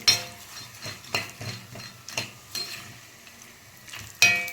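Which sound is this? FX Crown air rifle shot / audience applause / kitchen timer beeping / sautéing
sautéing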